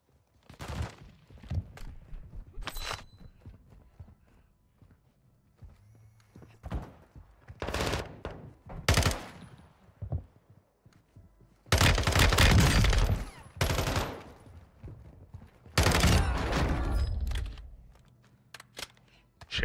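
RAAL light machine gun fire in Warzone, loud rapid bursts of automatic shots in several clusters, some longer sustained volleys, mixed with scattered distant shots and clatter.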